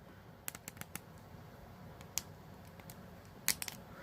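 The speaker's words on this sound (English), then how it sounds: "when you move them, there's a bit of a clicking sound" Plastic joints of an AEW Unrivaled action figure click softly as the shoulders and limbs are moved, a quiet series of small sharp ticks in irregular bursts close to the microphone.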